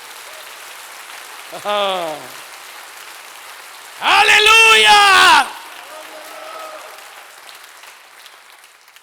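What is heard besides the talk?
congregation clapping for the Lord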